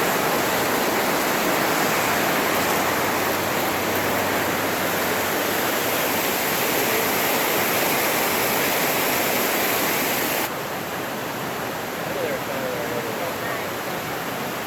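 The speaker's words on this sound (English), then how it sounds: "check out this river." A river in North Carolina flows past as a loud, continuous broadband rush of water, steady and close for the whole stretch, with a slight drop in level partway through.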